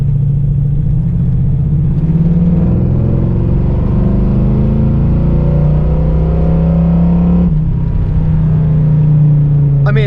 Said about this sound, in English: I do want to get a little acceleration in here for you guys